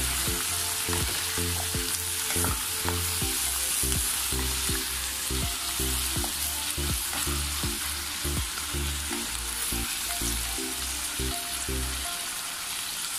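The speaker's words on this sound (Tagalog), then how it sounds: "patatas sa carrot. Haluin lang natin." Potatoes and carrots frying and being stirred in a pan for chicken pulao, a constant close sizzle broken by rhythmic scraping strokes of a spoon against the pan, no talk.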